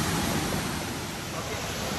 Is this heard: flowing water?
yes